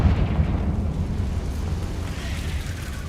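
Confringo spell explosion in the video game Hogwarts Legacy: a loud, sustained low rumbling burst that rolls on steadily for about three seconds with no speech over it.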